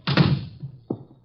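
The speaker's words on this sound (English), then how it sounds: "Shut the door." A door being shut indoors: a close wooden thunk with a quick double impact, followed by a softer second knock a moment later, with no talk over it.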